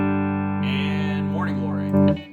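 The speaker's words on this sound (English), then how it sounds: "So here's clean with the compressor." A clean electric guitar played through a compressor holds a steady, evenly sustained note with a smooth, level tone, with a brief swell near the end.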